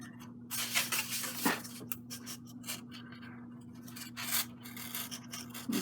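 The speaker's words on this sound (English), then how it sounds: "we are going to do our normal 45-degree bevel cut." A blade drags through foamboard at a 45-degree bevel, producing repeated close scratchy rubbing and rasping strokes in uneven bursts over a faint steady hum, with no talking.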